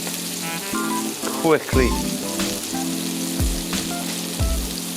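Onions frying in butter and olive oil give a steady sizzle throughout, with a voice talking over it and some brief clatter partway through.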